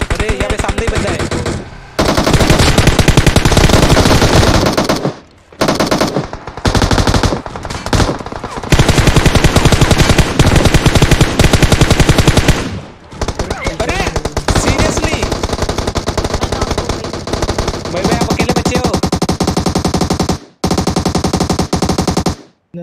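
Rapid automatic gunfire in the PUBG battle royale game, loud bursts of fire filling most of the span, broken by several short gaps of near silence.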